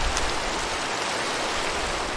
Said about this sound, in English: It's raining hard tonight.